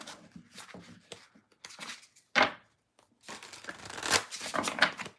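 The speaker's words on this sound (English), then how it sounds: "All right, last shuffle." Tarot cards being shuffled by hand in quick riffling bursts, with a brief louder flurry and a short pause before a longer, rising run of shuffling near and alone.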